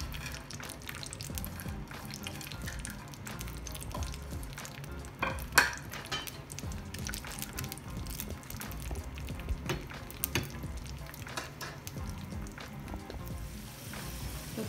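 Raisins frying in hot ghee as a garnish for Afghani pulao, a steady soft sizzle with occasional stirring scrapes and clinks of a spoon against the pan, close and without talk.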